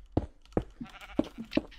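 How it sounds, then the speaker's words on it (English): Sheep in the Minecraft video game bleat in short, nasal bursts, about five of them in quick succession, near and clear against a quiet background. "There's some sheep on the surface if you want to share."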